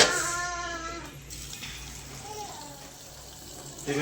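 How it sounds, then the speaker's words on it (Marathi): Water runs from a tap in a village home kitchen, a soft, steady gush that stays faint throughout, with quiet talk in the background. "पाणी कसं पडतं दाखवायचं"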